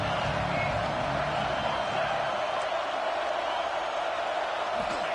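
Football stadium crowd noise on a third down at Ole Miss versus LSU, a dense, sustained roar that stays level throughout, with a commentator talking over it.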